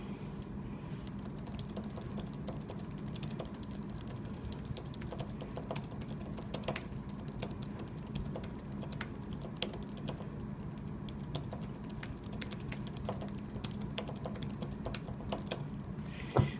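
Fast typing on a Logitech Ultrathin keyboard cover for an iPad Air makes a continuous rapid patter of soft key clicks, close and steady throughout, with no talk.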